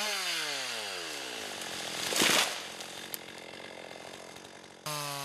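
A chainsaw cuts through a thick tree during logging work, its engine whining in a rising and falling pitch and surging into a loud, gritty bite midway before revving on alone.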